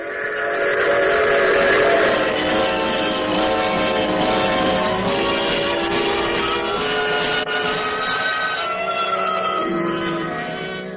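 A steam train runs loudly and steadily for the whole stretch, with its whistle sounding in sustained tones over the rumble of the moving cars.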